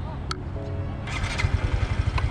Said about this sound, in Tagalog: Okay, then, paano mag-start ng motor?